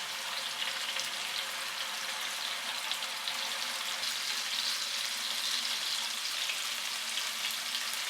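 Creamy chicken sticks frying in a pan, giving a steady, dense, close sizzle that holds at an even level throughout with no talking.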